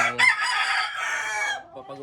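A rooster in a backyard flock of around 138 chickens lets out one loud, close crow that tails off, followed by a couple of short clucks.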